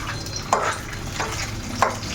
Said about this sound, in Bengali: ওইদিকে মাছ ভাজা পটপট করে হচ্ছে